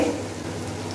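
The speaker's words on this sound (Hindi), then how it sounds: "अब जो हमारा मसाला है वो भूनकर बिल्कुल तैयार हो चुका है, हम इसके अंदर पानी शामिल करेंगे।" Water poured into a pot of roasted masala for dal chawal hisses and sizzles loudly up close, a dense, steady frying crackle with no voices.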